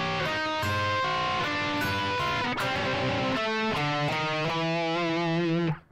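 A distorted electric guitar plays a blues rock turnaround in A, a descending run of sustained, overdriven notes and double stops that rings out and then cuts off, fairly soft and alone without talk.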